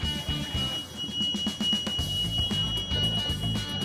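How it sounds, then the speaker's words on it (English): Ship bridge equipment alarms sound after a GPS position loss: a steady high-pitched electronic tone runs throughout, with pulsing buzzer beeps layered over it, loud and continuous. "As you can see, we have many alarm buzzers, many alarms."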